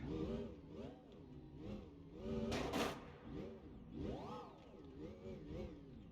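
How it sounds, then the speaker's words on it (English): Electric motor monster truck driving in BeamNG.drive, a whiny rising and falling motor tone that sweeps up and down repeatedly, with a brief burst of hissing noise partway through. "I have added in a fully electric motor."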